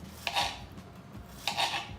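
A knife cuts through onions on a cutting board, giving two soft, close chopping strokes with a faint scraping texture over quiet room noise.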